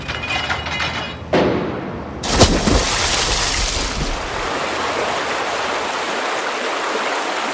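Rushing river water in a cartoon, sweeping a car toward a waterfall after a bridge collapses under heavy dump trucks: a steady, loud broadband roar with sharp splashing bursts at the start, settling into a continuous torrent.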